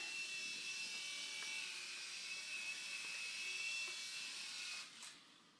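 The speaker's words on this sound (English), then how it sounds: "See, the Havoc helicopter." Air Hogs Havoc Stinger remote control mini helicopter flying, a steady high-pitched motor and rotor whine held at an even level for several seconds, then dropping off near the end as it comes in to land.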